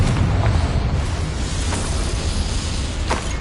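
Confringo fire-blast spell exploding in the Hogwarts Legacy wizarding game, a loud sustained rumbling burst with a few sharper cracks and pops spread through it.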